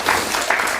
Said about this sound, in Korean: 환영하는 박수 한번 좀 쳐드릴까요?